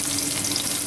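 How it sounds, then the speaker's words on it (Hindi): Sesame seeds frying in a pan over a low flame give a dense, even sizzle, close and steady for a brief moment with no voices. "जो तिल हमने फ्राई किए हैं वो डालेंगे। इनको लो आंच पे फ्राई करेंगे।"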